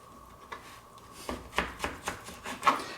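A knife chops through zucchini on a cutting board, several crisp close thuds spaced unevenly over a few seconds against a quiet kitchen background, with no speech.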